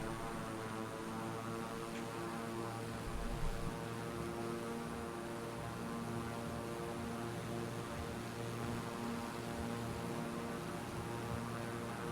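A King Air 350i turboprop in Microsoft Flight Simulator climbs out after a short-field takeoff, its propellers holding a steady, loud drone with layered tonal hum throughout and no voices.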